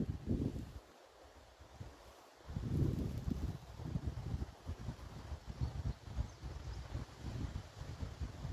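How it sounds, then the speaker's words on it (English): Wind and a steady breeze gusting outdoors beside a pond, a broad low rumble of buffeting against the microphone that drops briefly then returns stronger and keeps churning throughout. "hopefully you can hear me over the wind, but there's a nice breeze"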